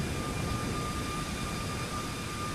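Boeing 737 jet taking off in Microsoft Flight Simulator, a dense steady engine roar with a thin high whine riding on top, loud and continuous without pauses.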